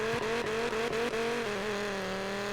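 SRT Viper engine in Need for Speed Payback, a loud, steady high-pitched engine drone holding revs with slight pitch wobble and brief dips, then settling a little lower, continuous and close.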